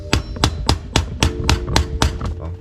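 A hammer taps repeatedly on a 30 mm socket, driving a front wheel bearing into a Suzuki LTZ400 quad hub. Ten or so sharp metallic knocks land at a steady, quick rhythm, close and loud, with no talk.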